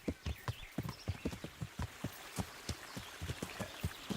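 Horse hooves plod along in Kingdom Come: Deliverance, a clear, uneven series of close clip-clop thuds at a walking to trotting pace, heard alone without any talking.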